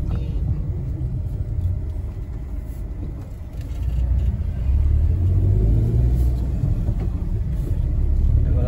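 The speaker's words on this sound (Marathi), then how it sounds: "तुम्ही इकडे बघू शकता आता गाड्यांच्या लाईनी कुठेपर्यंत पोहोचल्या त्या" Queued cars and road traffic during a festival outing produce a steady low rumble of idling and slowly moving engines, growing a little louder and fuller partway through, with no clear voices.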